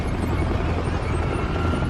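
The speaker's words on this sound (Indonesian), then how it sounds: "Pasukan musuh dengan helikopter dan artileri berat datang menyerbu tempat ini." Enemy helicopter approaching during an attack with heavy artillery in a game storyline, a loud, steady rotor roar that fills the moment alone, without speech.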